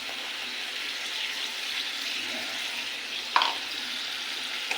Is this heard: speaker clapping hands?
no